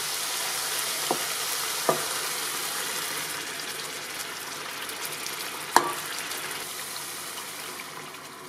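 Ground masala paste frying in a mutton curry pan, a loud continuous hiss and sizzle with a few sharp utensil clinks, one strong knock near the end, the sizzle easing slightly toward the close.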